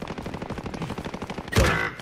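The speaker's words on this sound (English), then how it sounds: "Receiving hostile fire." Rapid bursts of gunfire in a video game crackle in a quick rhythmic stream, ending in a louder, heavier blast, with no speech over it.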